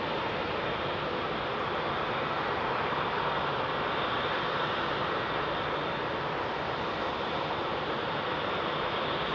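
An airliner with GE engines departs Heathrow at night, filling the air with a continuous, even jet roar. There is no talking over it.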